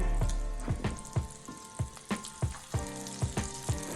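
Hamburger steak patties frying in a pan, a steady sizzle with a series of sharp rhythmic taps and scrapes from the pan or utensil.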